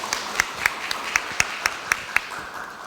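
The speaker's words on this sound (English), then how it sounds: "one more time, round of applause" A library conference audience applauds, with sparse individual claps at a steady rhythm, fairly quiet and thin, suggesting a small crowd.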